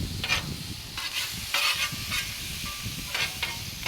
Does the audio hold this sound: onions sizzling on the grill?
yes